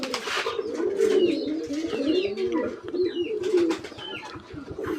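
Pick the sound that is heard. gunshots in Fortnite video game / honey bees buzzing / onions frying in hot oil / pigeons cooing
pigeons cooing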